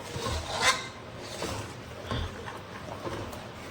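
A spoon scrapes and rubs around a pot of rice kheer as sugar is stirred in, giving repeated gritty strokes close by at an uneven rhythm, with no talking.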